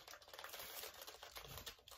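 Someone types on a Ducky One 2 Mini mechanical keyboard, producing a quick, steady run of light key clacks that stays faint and close, with no talking.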